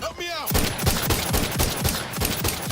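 Rapid rifle gunfire in The Outer Worlds 2, a dense burst of repeated shots fired in quick succession against spiders, loud and close after a brief tonal sweep at the start.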